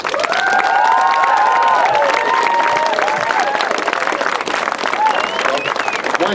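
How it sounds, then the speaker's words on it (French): Crowd applause and cheering from an audience at the Défi Roule à fond charity event at Sommet Morin Heights, loud and sustained throughout, with whistles and shouts riding over steady clapping. "Je voudrais encore une fois qu'on les applaudisse."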